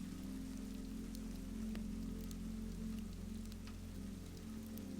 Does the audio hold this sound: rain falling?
yes